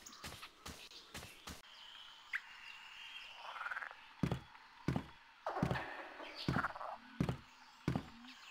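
Frogs croak in a swamp in the 1999 Windows adventure game The Longest Journey, giving repeated low rattling calls among buzzing insects and chirping birds, with sharp clacking knocks recurring throughout at a fairly quiet level.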